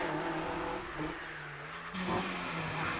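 A Lotus Exige with a 3.5 litre V6, built for the Exige V6 Cup, climbs a hillclimb course, its engine droning steadily through the gears, moderately distant, shifting pitch midway, with no voices.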